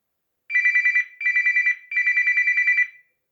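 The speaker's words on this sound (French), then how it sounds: "vous entendez la sonnerie stridente du réveil qui vous dit que vous devez vous réveiller" A shrill alarm clock rings in three sustained bursts, bright and piercing, with brief gaps between them and no talk over it.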